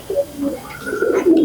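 Fancy pigeons in a loft give a few soft, throaty coos, close and short, with no talk over them.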